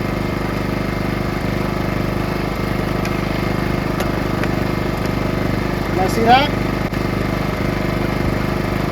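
Powersmart PS5025 2200W four-stroke inverter generator humming steadily at close range, a low even drone under a voice with a brief whistle-like squeal near the end.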